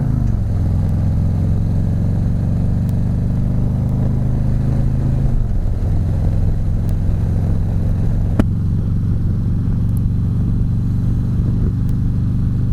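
Motorcycle being ridden on an open road, a steady loud low engine drone that shifts down slightly partway through, with constant wind rumble and no talk.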